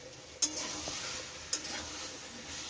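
Mutton curry, with a spoonful of sugar added, is sautéed in a pan. A quiet, soft sizzle runs underneath, broken by two sharp utensil taps against the pan.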